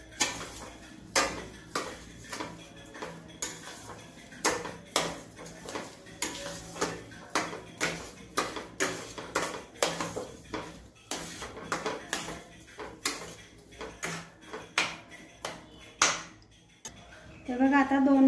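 Sheera with sugar being mixed in a pan over low gas, a spoon scraping and clinking against the metal in a steady run of close, crisp taps, with a brief voice near the end.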